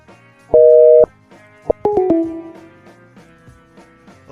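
A short, steady telephone tone sounds, then a few quick beeps follow in a quiet room.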